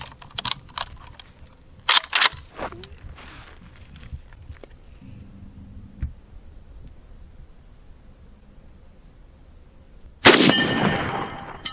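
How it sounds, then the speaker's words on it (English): Ruger Mini-30 rifle fired with Winchester ammunition at a steel plate outdoors. A few handling clicks and rattles come first, then one loud sharp report near the end that rolls off into a decaying echo. "let's see if I can hit that plate with Winchester ammo."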